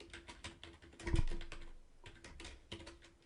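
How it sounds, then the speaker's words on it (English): Computer keyboard tapped in quick, uneven runs of clicks while a note is typed, close and quiet, with one louder thump partway through. "I'm going to type in a note for myself"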